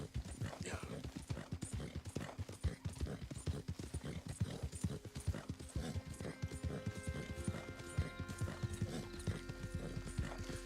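Hooves clip-clop in a quick, steady rhythm as a horse is ridden around in a video game, close and prominent, with an occasional whinny and a low droning tone building in the final seconds.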